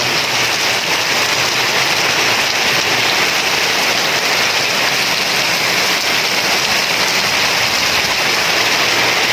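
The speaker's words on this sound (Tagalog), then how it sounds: "Ngayon talaga malakas na. Grabe ulan" Heavy typhoon rain pours down in a loud, dense, unbroken roar, steady throughout with no voices.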